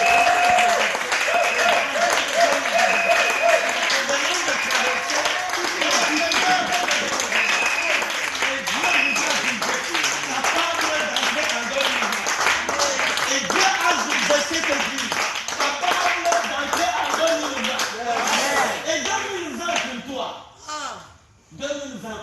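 Congregation at a New Year's Eve worship celebration claps and cheers steadily for about twenty seconds, a dense wash of hands with voices mixed in, thinning out near the end.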